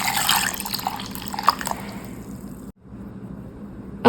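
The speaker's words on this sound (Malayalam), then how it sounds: "നമുക്ക് പാൽ ഒഴിക്കാം." Milk pours steadily into a mixer jar holding frozen strawberries for a strawberry shake, a close liquid splashing that stops abruptly near the end, followed by a brief quiet moment.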